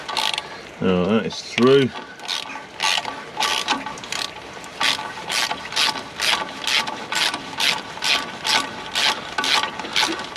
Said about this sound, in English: so now I've got a ratchet on the job.